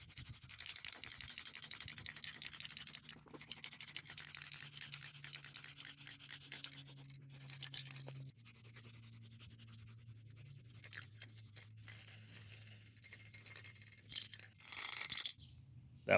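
Nearly empty spray paint can hissing in short, uneven bursts over a motorcycle part, fairly faint, with gaps and a low background hum.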